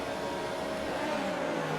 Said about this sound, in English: Let's build up the revs and get ready for the start of Season 3.